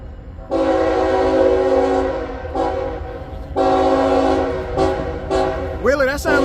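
A CSX freight train in Lee County, Alabama sounds its horn in several long, loud blasts separated by short breaks, with rumbling train noise underneath. A voice briefly speaks near the end.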